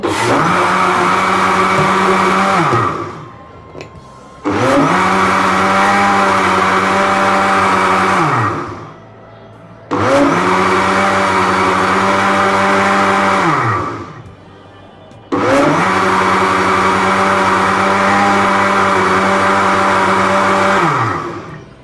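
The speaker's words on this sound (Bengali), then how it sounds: "এবার আমি ব্লেন্ডার জাগে কিছুক্ষণ ব্লেন্ড করে নিব।" An electric blender jug whirs through homemade lassi in four long, loud motor bursts, each holding a steady pitch for a few seconds before spinning down into a short pause.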